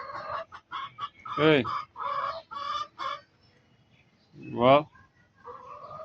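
Old hens cluck and call in a series of close, loud bursts, with a rising squawk near the middle and another near the end, while a person speaks briefly among them.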